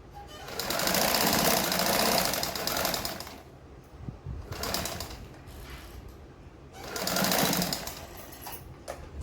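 A sewing machine stitches a seam on a katori blouse in two long loud bursts of rapid steady whirring, separated by a pause with quieter handling noise, with no talk.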